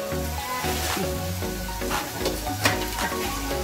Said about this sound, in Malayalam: ക്യാപ്സിക്കം ഇത് നന്നായിട്ട് ഇളക്കി കൊടുക്കും